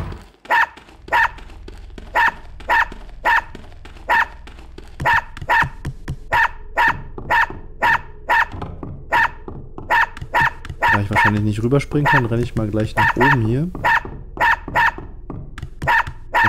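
In the video game Unepic, a dog barks repeatedly in a steady, rapid rhythm, loud and close, while someone talks over the barking throughout.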